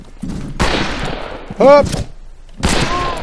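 Gunfire in the Western shooter game Fistful of Frags, including a derringer: bursts of loud, close shots with a sharp ricochet-like twang midway, while a man yelps over the action.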